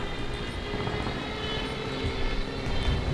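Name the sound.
Stuka dive bomber aircraft in War Thunder video game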